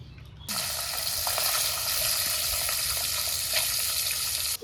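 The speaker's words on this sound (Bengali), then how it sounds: "গরম তেলে মাছ দিছি, এখন সাবধানে নেড়ে চেড়ে দেবো।" Fish frying in hot mustard oil in a wok, a steady loud broadband sizzle that starts abruptly and continues unbroken, close by with no talk.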